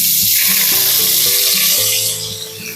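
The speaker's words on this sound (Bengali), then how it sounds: "আমি গাজরটা ভেজে তুলে নেব" Carrot pieces frying in a pressure cooker on an induction cooktop, giving a loud, steady close sizzle with a few soft stirring knocks.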